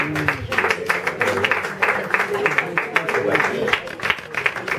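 Theatre audience at an evening show clapping for a volunteer woman brought on stage, a dense, steady applause that fills the whole stretch, with a host's voice talking loudly over it.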